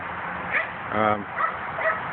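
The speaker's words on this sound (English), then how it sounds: "Other than this new dog I got back here. Can you hear it?" A dog kept in a backyard whimpers and yips in short, high, whining bursts, the loudest near the middle, heard somewhat muffled at moderate distance.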